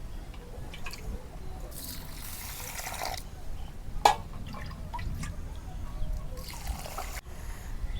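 Water trickles and drips into a pot of biryani rice set to soak in a village kitchen, soft irregular splashes and dribbles heard close and fairly quiet, with no speech.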